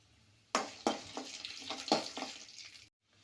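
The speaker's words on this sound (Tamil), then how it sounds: "இதை நல்லா ஃப்ரை பண்ணிக்கலாம்." Green chillies, curry leaves and peanuts fry in hot oil in a pan, making a few sharp spitting sizzle bursts close by that fade into a short crackle before cutting off.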